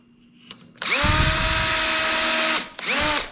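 A power drill fitted with a hinge drill bit, 7/64 inch inside and 1/4 inch outside, bores a dimple into the end grain of a MikroRail, whining loudly and steadily for about two seconds, then briefly revving again after a short stop.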